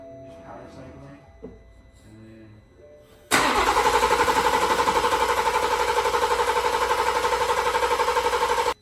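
A BMW B58 engine with a top-mount turbo kit cranks over to prime the turbo oil feed line, a sudden loud, rapid, steady churning that runs for about five seconds after a few quiet clinks and faint background sounds.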